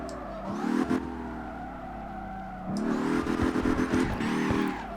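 A BMW M2 drift car in CarX Drift Racing revs in two short bursts split by a brief lift, its mid-pitched engine note loud and close, with faint tire noise and no talk.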